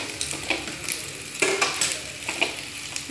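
Macaroni sizzling and frying in a pan while being stirred, a steady crackling hiss with soft scraping strokes of the spoon repeating every second or so, close and moderately loud, with no talking.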